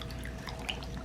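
Beadwork is gently washed by hand in soapy water, giving soft drips, sloshing and light liquid splashes, quiet and close.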